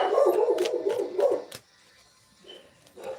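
Dogs indoors bark repeatedly at someone at the door, a run of sharp, fairly close barks that breaks off into a quieter pause before a few softer yips.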